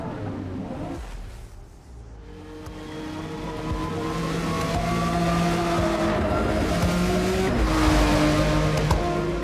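Race cars on the Maple Valley circuit in Forza Motorsport, engines rising through the gears in climbing revving tones, several cars overlapping, loud and building with faint tire noise.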